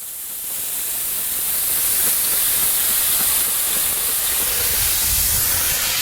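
Steady hissing spray of a fruit juice and teriyaki mixture misted onto pork butts smoking on a pit, a continuous loud airy rush that swells in the first second and then holds even.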